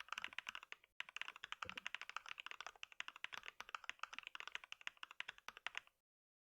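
Rapid, steady typing on a computer keyboard while entering code, with dense close key clicks running for about six seconds after a brief pause near the start.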